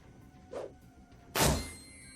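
A flashbang grenade is thrown in the Shadowrun: Dragonfall video game: a soft thud first, then a sudden bright, hissing burst that rings out and fades over a quiet background.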